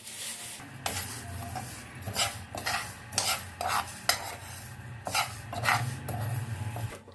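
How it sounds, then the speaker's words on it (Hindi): Fenugreek, carom and cumin seeds dry roasting in a pan, a spoon stirring and scraping them in repeated gritty strokes with a light rattle, close and clear with no talking. "2 टेबलस्पून मेथी दाना है, 1 टीस्पून अजवाइन और ये जीरा है, और इनको हमने रोस्ट कर लेना है।"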